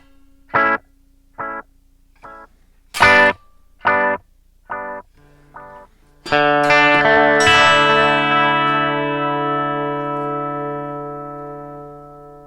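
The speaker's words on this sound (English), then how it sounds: "This way you can hear the delay better here." Electric guitar run through a Nux Trident multi-effects processor with delay, several short staccato chord stabs followed by a long ringing chord that sustains and slowly decays with echoing repeats, loud and close.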